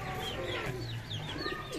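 Pigeons coo softly and repeatedly nearby in Karachi, with a few higher chirps mixed in over a steady outdoor background.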